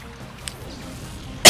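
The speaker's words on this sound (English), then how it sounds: "Coughing in your ear like that." A single sharp, loud cough bursts right into a close microphone at the very end, following a stretch of quiet room noise with a faint click.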